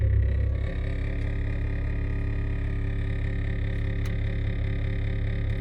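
Honda car engine making an abnormal steady droning hum with a deep low rumble once shifted into drive, a constant close tone that barely changes, with no voices over it.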